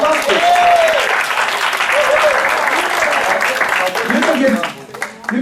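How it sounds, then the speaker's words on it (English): A classroom of students claps loudly and unevenly for a classmate, with voices calling out and talking over the applause until it tapers off at the end. "Applause please."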